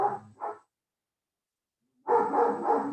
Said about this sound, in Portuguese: Olha, os cães estão apavorando. Meus cães.